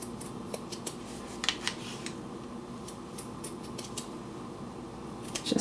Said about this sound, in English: it might be a little tough to cut with some scissors if they're not super sharp